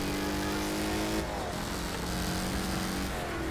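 A car accelerates in the racing and demolition game Wreckfest, its engine climbing through rising harmonics, dropping at a gear change and then climbing again, loud and continuous.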